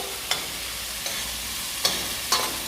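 Ground beef frying in oil in a pan, a soft steady sizzle with four sharp scraping knocks of a utensil as it is stirred, close and fairly quiet.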